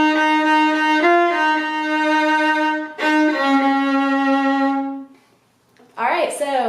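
Viola plays a slow, sustained melodic passage from a song, bowed notes held and shifting pitch, close and clear, then a short pause before a brighter, scratchier bowed phrase.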